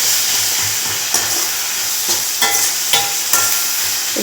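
Two tomatoes fry in a pan with a steady sizzling hiss, broken every half second or so by scraping stir strokes of a spatula. No voices.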